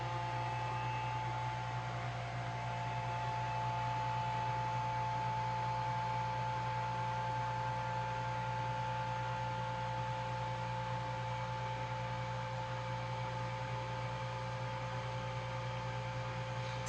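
A vacuum sealer runs through a cycle sealing packaged poultry, giving a steady, even mechanical hum and drone that stays constant for the whole span with no talking.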